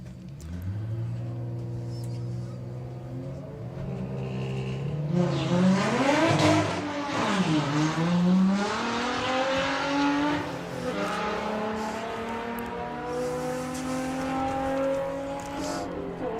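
VW Pro drag racing cars launch at Santa Pod, their engines rising in a loud revving climb that sweeps upward and fades as the cars pull away, with a second engine overlapping and some tire noise.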